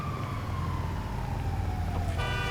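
An ambulance siren in a video game wails steadily with a slowly falling pitch over a constant low engine rumble, no voices present.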